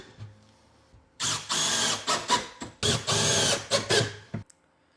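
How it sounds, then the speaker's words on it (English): A power drill drives screws to fasten a built-in cabinet down to its toe kick, with a run of loud, close whirring bursts that stop and start in quick succession. "So now I'm going to screw this down to the toe kick."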